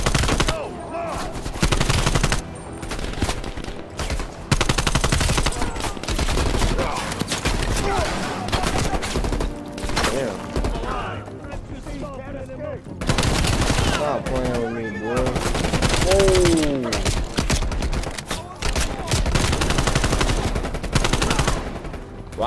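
Heavy video game gunfire from Call of Duty Black Ops Cold War on PS4, with repeated loud bursts and rapid automatic volleys running throughout, broken by short lulls, with voices talking underneath at times.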